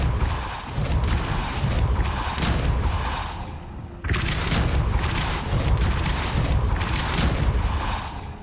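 A Depulso repelling spell cast in the video game Hogwarts Legacy, heard as repeated heavy booming thuds and crashes, loud and dense throughout with a sharp renewed impact midway.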